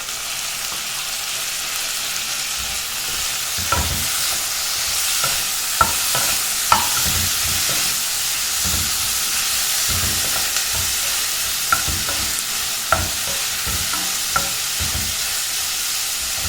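Tomatoes sizzle and fry in a pan for a Tamil Kumbakonam kadappa side dish, a steady loud hiss broken by occasional sharp clicks of a spoon stirring against the pan.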